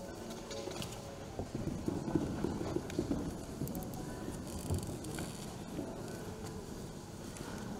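An Icelandic horse's hooves beat rhythmically on the ground while trotting and tölting, a steady even patter close by with faint voices and background noise.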